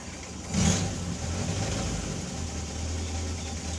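A 1962 Triumph TR4 engine runs steadily just after start-up, a close, even mechanical hum with a brief louder rise near the beginning before settling into an idle.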